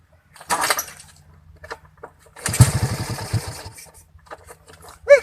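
Motorcycle engine sputters in short uneven bursts, catching briefly then dying out, close by, with scattered faint noises between attempts and no clear talk.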